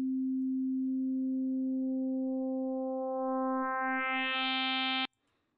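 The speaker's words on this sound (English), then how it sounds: "Boring sine wave." A pure sine wave tone from an FM8 synthesizer holds steady and loud for about five seconds, growing brighter and buzzier near the end as harmonics are added, then stopping abruptly.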